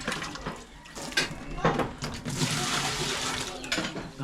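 Water is poured and splashes for dishwashing at a home that uses soil-scented well water, a continuous sloshing, gurgling flow close by that swells and eases in waves, with a voice speaking over it.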